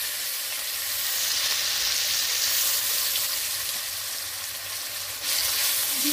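Onion frying in hot oil in a kadai, a steady close sizzle and crackle that holds throughout, with a faint stir near the end and no voices.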